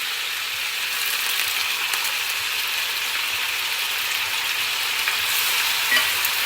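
Meat sizzles steadily in a hot pan while being stirred to brown it with spices, a continuous close frying hiss with soft scraping throughout and no talking.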